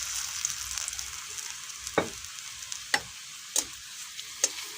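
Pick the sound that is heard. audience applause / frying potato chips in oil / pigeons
frying potato chips in oil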